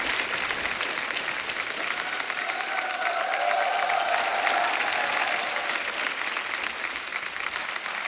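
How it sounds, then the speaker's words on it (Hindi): Sustained applause from a studio audience at a Hindi television show, dense and steady clapping throughout, moderately loud with no pauses. "जोरदार तालियां हो जाएगा।"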